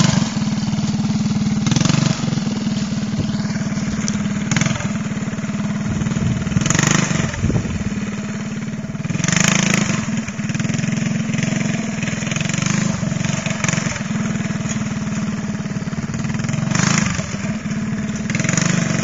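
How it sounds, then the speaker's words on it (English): A go-kart engine runs steadily as it is driven, a continuous buzzing drone that swells and eases slightly with the throttle, close by and loud throughout. "driving the go-kart by himself"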